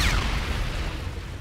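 A heavy gunshot boom in the video game Call of Duty, a single loud blast at the start that rolls off into a long rumbling decay.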